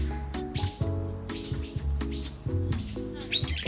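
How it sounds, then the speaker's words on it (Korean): Birds chirp and tweet in bursts in a windswept forest on Odongdo island in Yeosu, several calls overlapping at close to moderate range with steady background sound and no talk. "귓가에는 나뭇잎이 서로 스치는 소리와 이름 모를 새들의 지저귀만이 가득해지죠"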